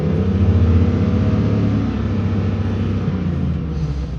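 Chevy truck LM7 engine held at a steady high rev of about 4,000 RPM during a crankshaft position variation relearn, a loud continuous droning roar that barely changes.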